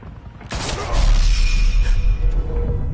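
Gunfire erupts in a PS4 video game: a sharp, loud burst after a quiet half-second, followed by a heavy rumbling boom and clattering debris that fills the rest of the clip.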